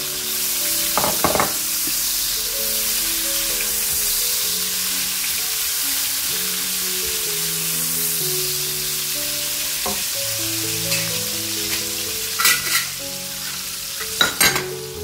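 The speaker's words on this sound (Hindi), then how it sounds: "जैसे हम प्याज को ब्राउन करते हैं, लाइट ब्राउन करेंगे प्याज को" Onions sizzle steadily in a hot pan, with occasional scraping and clinking of a stirring utensil. Continuous, close, no speech.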